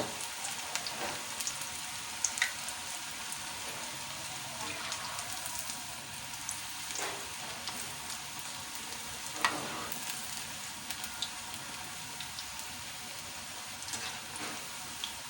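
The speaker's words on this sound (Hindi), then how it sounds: "अब हमारा तेल गर्म हो गया है और अब हम ये पकोड़े तलते हैं।" Besan pakoras fry in hot oil in a kadhai with a steady crackling sizzle. A few louder pops and the scrape of a stirring spoon rise above it, and no one speaks.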